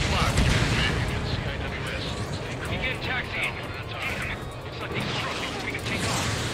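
Anti-aircraft fire from enemy ships in the Ace Combat 7 video game: a dense, continuous roar of booming flak and rumbling explosions, loud and sustained throughout, with voices talking over the barrage.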